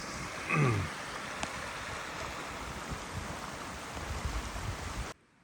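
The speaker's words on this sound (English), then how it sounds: "This is my campsite right here by the creek with a little waterfall flowing into it." Creek with a small waterfall flowing into it beside a backpacking campsite, a steady close rush of water throughout, with a brief faint chirp near the start.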